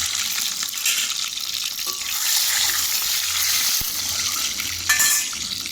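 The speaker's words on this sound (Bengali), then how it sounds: "তেলটা গরম হয়ে গেছে, ভাজবো, লাল করে ভাজবো" A boiled egg rubbed with salt and turmeric fries in hot oil, giving a close, steady sizzle with light crackles and occasional scraping, and no talking.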